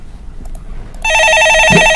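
Telephone rings for an incoming call on a live stock-advice call-in broadcast, a loud electronic ring tone starting abruptly after a second of near silence.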